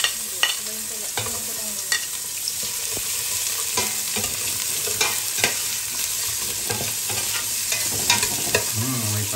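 Onions and garlic sauté in a pan, giving a continuous close sizzle with frequent sharp scrapes and taps of a utensil stirring, no voices.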